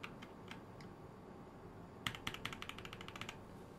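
Computer keys clatter faintly: a few scattered taps, then a quick burst of rapid typing toward the end, quiet and close with no voices.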